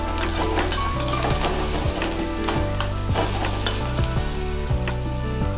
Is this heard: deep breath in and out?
no